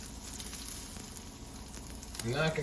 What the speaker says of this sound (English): Let's render that fat down first, right in the middle of the pan.